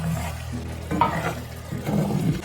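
Wine hits a hot pan on high heat and sizzles at moderate loudness while a spoon stirs it, with soft scraping and clatter coming in irregular bursts.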